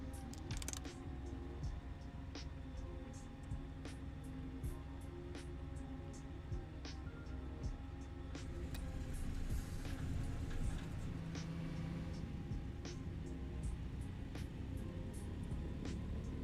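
Left radial engine of a Douglas DC3 starting up and settling into a steady, loud idle drone with clattering ticks, heard from close by and with no talk.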